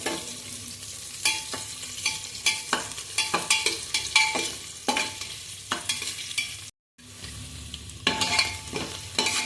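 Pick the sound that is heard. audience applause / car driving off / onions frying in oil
onions frying in oil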